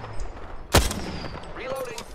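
Game gunfire in a Borderlands-style shooter, one loud sharp shot standing out over a busy combat bed of softer effects and chatter, with voices talking throughout.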